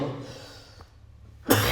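A single short cough bursts out abruptly near the end, close and fairly loud, after a stretch of quiet breathy murmur.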